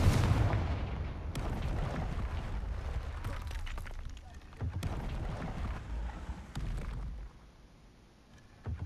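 A Confringo fire spell blasting in Hogwarts Legacy, giving loud booming explosive bursts, with a big hit at the start and several more blasts and crackles that follow.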